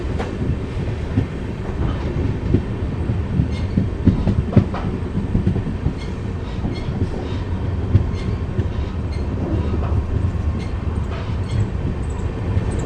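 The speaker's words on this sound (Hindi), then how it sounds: "हमारी ट्रेन की गति यहाँ पे बहुत ही कम कर दी है।" Amritsar-Bikaner Superfast Express train slowing as it nears a station, a steady loud rumble of wheels and carriages with faint rhythmic clatter and occasional sharper knocks, no voices.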